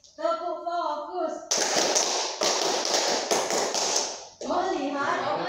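Children and a teacher doing a rhythmic classroom clap game in sets of three, crisp bursts of clapping in quick groups, close and loud, with voices speaking before and after.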